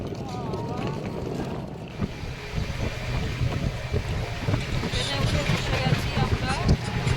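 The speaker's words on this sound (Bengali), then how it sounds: "প্রচণ্ড হাওয়া দিচ্ছিল, তাই কথা বলতে পারছিলাম না" Strong wind buffets the microphone on a walk to a railway platform during a family trip from Kolkata to Puri, a constant loud rumbling roar throughout with voices faintly beneath it.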